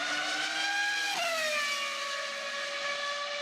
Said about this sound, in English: Formula 1 cars have a new soundtrack through the introduction of V10 engines